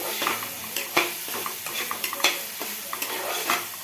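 Ginger-garlic spice paste frying in a pan, steady sizzling under repeated scraping and clinking of a spoon against the pot as the mixture is stirred.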